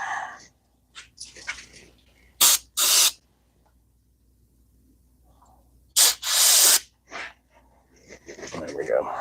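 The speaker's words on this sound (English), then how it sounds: "I'm gonna hit everything up with a little carburetor cleaner" Carburetor cleaner sprayed from an aerosol can onto motorcycle parts during a Sportster stage 1 install, several hard hissing bursts of differing length, close, with rustling and handling noises between them.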